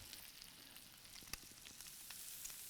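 Rib eye steak sizzles steadily on a hot grill, a faint crackling hiss with occasional pops, close up and uninterrupted.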